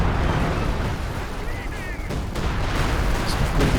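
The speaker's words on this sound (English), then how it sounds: "Zappa dropping down the concentrated fire operation here" A concentrated fire artillery barrage in Company of Heroes 2 makes a dense wash of booming impacts and gunfire, loud and continuous, with battlefield noise and a voice talking over it.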